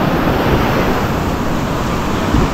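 Sea waves wash onto a beach in a continuous, loud roar of surf and rushing water, with wind buffeting the microphone throughout.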